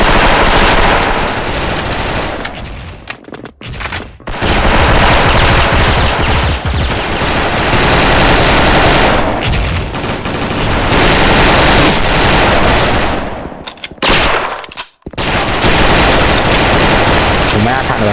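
Rapid, sustained SKULD FN FAL rifle fire in a shooter video game, loud continuous bursts with only brief gaps, mixed with game effects and some voice-like sound.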